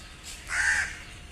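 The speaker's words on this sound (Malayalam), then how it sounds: "കാക്ക കരയുന്നു ഇവിടെ ഇഷ്ടംപോലെ മരങ്ങളൊക്കെ ഉണ്ട്" A single crow caws once, clear and moderately near, over a quiet outdoor background among many trees.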